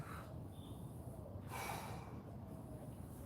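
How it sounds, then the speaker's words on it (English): Deep, slow breaths drawn in and pushed out during a guided workout breathing exercise, a long airy inhale then a rushing exhale, close and steady with no talking. "Big inhales and exhales."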